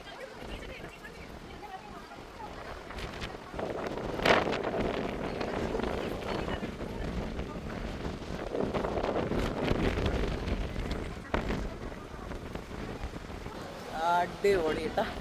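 Strong wind gusting across an exposed hilltop temple, a steady roaring buffet hitting the microphone throughout, with surges in strength and occasional voices in the background.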